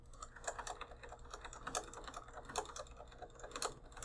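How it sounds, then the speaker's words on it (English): A Logitech G910 keyboard's space bar and keys are pressed in a steady run of crisp clacks, roughly evenly spaced, with a few louder thumps standing out, close and moderately loud with no talking. "Let's listen to the space bar."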